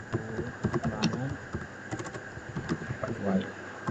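Keys on a computer keyboard are pressed for a Ctrl S save, with light clicks and taps scattered under continuous talking.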